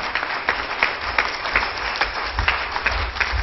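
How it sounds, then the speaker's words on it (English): A church congregation at a Pentecostal service claps hands together in a steady, rhythmic beat, a dense and lively wash of applause without any talking. "Give God a hand clap of praise"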